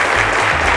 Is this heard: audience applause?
yes